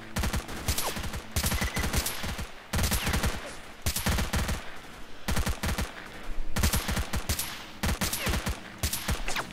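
Gunfire in S.T.A.L.K.E.R.: Call of Pripyat, loud close bursts of automatic weapon fire coming in repeated clusters separated by short pauses, with echoing tails between volleys.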